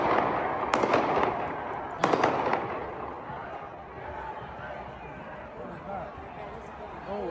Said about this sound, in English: People were just marching along, and then suddenly there's gunfire.